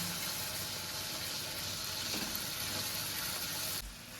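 Spiced masala paste for a cream paneer dish, salted, fries steadily in hot oil with a continuous close sizzle and crackle that dips abruptly near the end.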